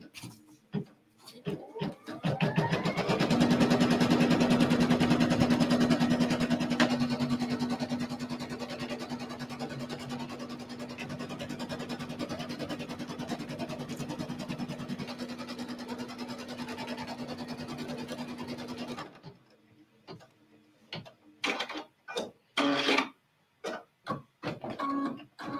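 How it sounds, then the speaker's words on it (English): A sewing machine runs steadily for about sixteen seconds, stitching the batting placement line on a quilted pillow. The steady, close mechanical hum is followed by a quieter stretch of scattered handling sounds. "I'm going to stitch what we would call the batting placement line."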